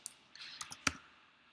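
Keys tapped on a computer keyboard while entering a login authentication code, a handful of separate sharp clicks spaced out over about a second, close and fairly quiet, with no talk.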